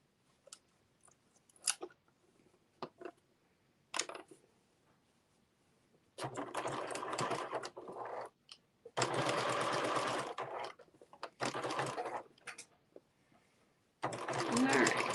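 Home sewing machine running in short bursts while stitching in reverse at the start of a dust cover seam, loud whirring runs separated by pauses, with light handling clicks between.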